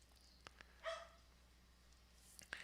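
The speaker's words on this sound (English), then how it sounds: "There's the dog barking." A dog left outside and wanting to come in gives one faint, distant bark, followed later by a brief yip, over quiet background hiss.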